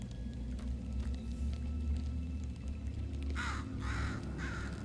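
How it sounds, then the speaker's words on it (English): In the Portal 2 video game, a bird caws three times in a quick, harsh series near the end, over a steady low ambient rumble, with no talking. "A bird."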